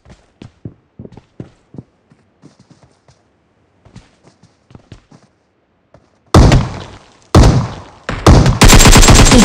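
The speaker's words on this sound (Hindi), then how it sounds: "यहाँ पे एक बंदा शॉटगन से हिट्स देने की कोशिश करता है" Gunfire in a PUBG Mobile match: quiet scattered shots early on, then sudden loud, dense bursts of automatic and shotgun fire close by.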